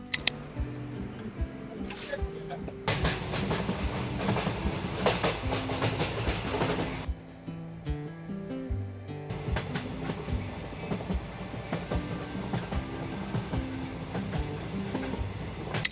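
A passenger train on a long-distance run toward Rameswaram, just after departing a station. It gives a steady rumble with rhythmic wheel clatter, and a louder burst of rolling noise comes partway through.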